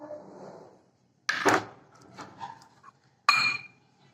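Boiled potatoes being mixed with sweet corn, cumin and carom seeds in a bowl: a soft shuffle, then a few sharp clinks of a utensil against the dish with quieter scraping between them, and no talking.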